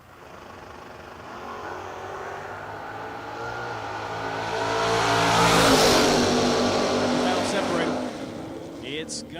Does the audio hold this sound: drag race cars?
yes